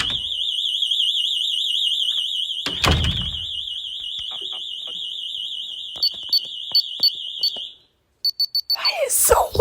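An Abode home security siren wails indoors, a loud, steady warbling tone with a door thud and knocks beneath it. It cuts off briefly and resumes in short bursts as a voice speaks near the end.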